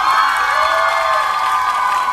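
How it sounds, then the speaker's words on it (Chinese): Audience at a university anniversary celebration cheers and applauds a student singer's performance, a dense, steady wash of clapping and shouts throughout. "掌声鼓励"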